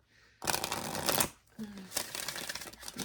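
A deck of tarot cards is shuffled in close, rustling bursts, with a long riffling stretch followed by a brief pause and then more continuous shuffling.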